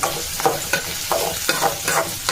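Ingredients for a Tamil-style bachelor chicken gravy are sautéed and stirred in a pan until golden, giving loud, close sizzling frying broken by rhythmic scraping stirs about every half second.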